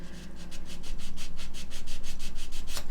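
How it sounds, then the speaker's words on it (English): A mid-grit sanding stick, not too coarse, is run back and forth along the back edge of a plastic model part, giving a steady rhythmic rasping of about a dozen close strokes with no voices. "I like to use a reasonably mid sanding stick, not too coarse, and just run it along the back edge"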